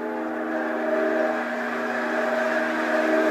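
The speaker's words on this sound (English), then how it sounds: "Here comes a train." A train passing in snowy conditions gives a steady, tonal hum with a sustained whistle-like horn quality, moderately loud and continuous, with no voices over it.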